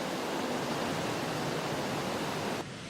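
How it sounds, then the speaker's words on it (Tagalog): Strong current of the overflowing Marikina River rushes in a dense, steady roar like broadband noise, continuous and fairly loud before dropping off abruptly near the end. "At dahil umaapaw pa rin itong ilog, malakas ang agos ng tubig"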